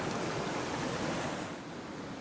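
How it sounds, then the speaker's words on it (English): Fast water flowing through a gold sluice over sand and bedrock, a steady close hissing rush with no talking. "This thing's obstructing the flow of this faster water."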